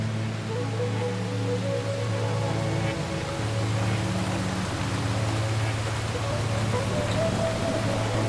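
Steady rain falling for sleep, an even wash of soft patter that runs without a break, with a low sustained drone beneath it and no voices.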